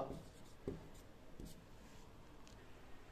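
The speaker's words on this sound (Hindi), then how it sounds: "हम यहां पर लिखेंगे आंसर यहां पे लिखेंगे" A pen scratches steadily across paper as an answer is written out, soft close-up rubbing strokes with a couple of firmer taps.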